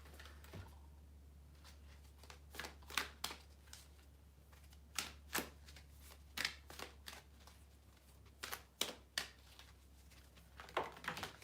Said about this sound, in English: Let me move these cards.